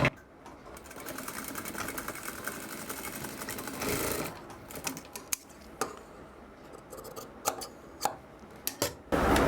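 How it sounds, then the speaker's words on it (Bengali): A sewing machine stitches a seam on a child's blouse in steady rapid runs, pausing briefly and then restarting with short clattering bursts toward the end. "এখানে দেখেন আমি আপনার সেলাই দিয়ে দেখাচ্ছি"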